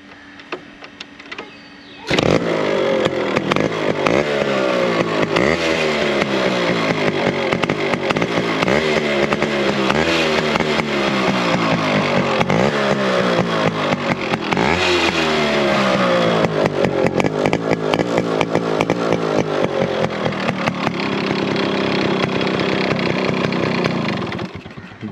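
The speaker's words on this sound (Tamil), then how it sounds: "நான் உங்களுக்கு ஒரு தடவை இதோட எக்ஸாஸ்ட் நோட்டை வந்து காமிச்சிடுறேன் வண்டியை ஆன் பண்ணிட்டு" Yamaha RX135 two-stroke motorcycle starting up and revving repeatedly, its loud, raspy exhaust note rising and falling in steady throttle blips close by, with no talking over it.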